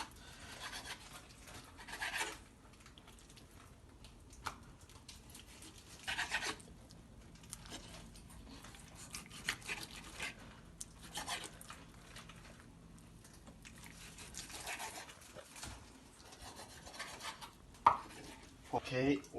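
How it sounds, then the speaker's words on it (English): Knife chopping chicken into small stewing pieces on a board for Zimbabwean chicken stew, irregular knocks and scraping with clinks of utensils in a kitchen, moderately faint, with occasional talk. "I'm chopping the chicken into smaller pieces so that it can be stewable"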